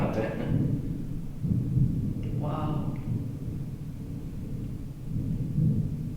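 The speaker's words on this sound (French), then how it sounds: "C'est le tonnerre qu'on entend." Low thunder rolls in long, muffled rumbles from a distance outside a prison during a storm, with people talking quietly and a brief exclamation over it.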